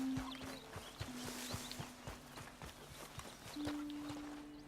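Horse hooves clip-clopping at a steady walk in the Western video game Red Dead Redemption, evenly spaced close thuds over a faint outdoor ambience with a soft sustained musical tone.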